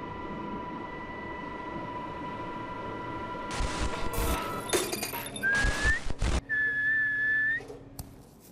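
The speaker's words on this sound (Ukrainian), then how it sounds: "свистить, це означає, що час їсти" A farmer on a German pig farm whistles to call the pigs for feeding. Several sharp, rising tonal whistles cut through a noisy barn background, with clatter between them and one longer sustained whistle near the end.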